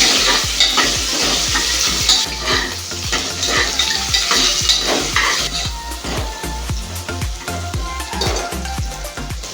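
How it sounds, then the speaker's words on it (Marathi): Onion fries with curry leaves and garlic in a hot pan, a loud, dense sizzle layered with rapid, repeated scraping and clattering stirring strokes, close and continuous. "कांदा चांगला फ्राय होऊ द्यायचा।"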